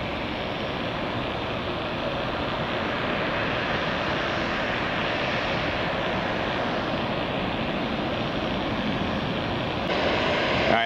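A United airliner in new livery at Tampa International Airport produces a loud, continuous engine roar that holds steady throughout, with no voices over it.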